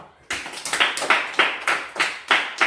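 A small group claps for the winner of a kids' game: crisp, near claps in quick uneven bursts, each sharp hit clearly separated, alone with no talk.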